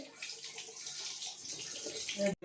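Water from boiled veg chow mein noodles draining in a steady, close hiss of running and trickling water, continuous throughout with a short cut near the end.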